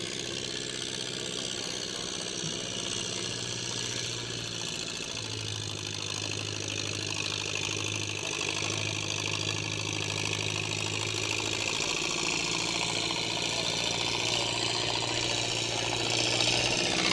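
A Minneapolis Moline Z tractor engine running steadily at a barnyard tractor pull, a loud continuous low drone that holds a constant pitch with slight swells, heard alone amid outdoor crowd ambience.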